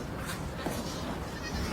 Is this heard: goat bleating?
yes